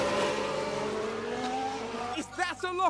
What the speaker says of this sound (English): Is that a lockup?